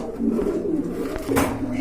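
A pair of Bombay Indian pigeons coos in low, soft, throaty bursts close by, with a faint click partway through.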